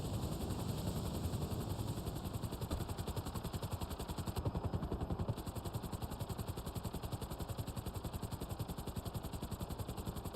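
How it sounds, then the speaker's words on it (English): Helicopter in the video game GTA Online, a steady rapid rotor chop with engine drone, continuous and moderately loud throughout. "Whose helicopter is this? Guess I'll borrow this."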